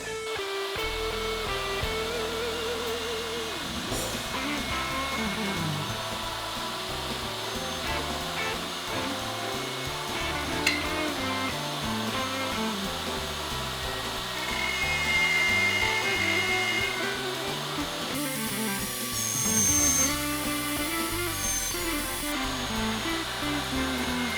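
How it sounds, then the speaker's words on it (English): A plunge router fitted with an edge guide cuts mortises in a large walnut lamp piece, a loud whining motor with shifting pitch as the bit plunges and travels, running steadily throughout with no talk. "So instead I'm going to use a plunge router with an edge guide."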